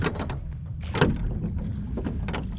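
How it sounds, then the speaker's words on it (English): A boat out on the water on a cherry blossom outing in Japan, heard as a close, steady wash of water and wind noise with soft splashes, and no talking. "I decided being on a boat was a much better option"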